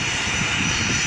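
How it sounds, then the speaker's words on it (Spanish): Steady, loud drone of a fixed-wing airplane engine as a fifth plane arrives at an airfield for an organ retrieval operation, continuous and close with no break. "Quinto avión"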